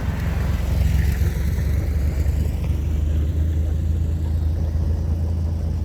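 A quad bike engine runs steadily and loudly at close range, a constant droning rumble with wind noise and no voices.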